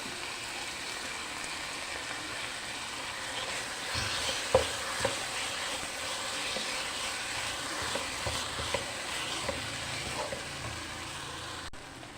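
Curd being stirred into chicken masala for a dum biryani gives a steady frying sizzle with soft scraping stirs and a few light clinks. The sound is close, continuous and moderately loud, with no voices.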